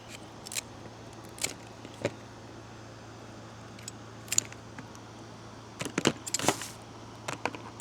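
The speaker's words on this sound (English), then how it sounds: "you can just cut your cluster off" Scissors cut through a cluster of snow crab legs in a few sharp, separate snips and crunches, with quiet gaps between them.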